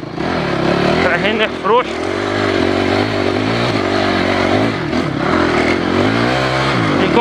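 An enduro motorcycle revs hard and continuously on a loose-dirt uphill section, engine note rising and dipping as it fights for grip, loud and close beneath someone speaking Portuguese.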